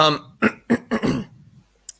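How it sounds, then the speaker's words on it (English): A few short, harsh throat-clearing bursts in quick succession, close and fairly loud, followed by quiet and a faint click. "I'm trying to clear my throat"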